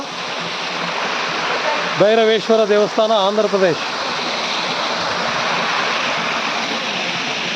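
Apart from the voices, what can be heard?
Bhairavakona waterfall near Bhairaveshwara temple, Andhra Pradesh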